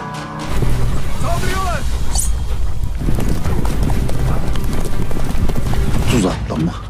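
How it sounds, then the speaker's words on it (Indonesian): Thirty mounted horsemen charge in a film battle scene, their loud continuous hoofbeats drumming under overlapping voices and battle noise, with a possible whinny early on. "pihak Sultan Arsalan memulai serangan dengan 30 penunggang kuda."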